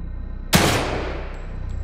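A single sharp gunshot in the video game The Evil Within 2 on PS4 cracks out and decays over about a second against a steady background hum.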